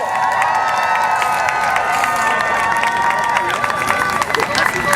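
Crowd at an outdoor climate rally cheering and clapping, a dense continuous roar of voices and applause with shouts rising above it, steady and loud throughout with no break.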